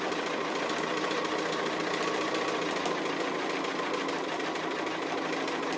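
A sewing machine runs continuously while free-motion quilting around an appliqué, its rapid, even needle chatter and motor whir loud and close throughout, with no voices.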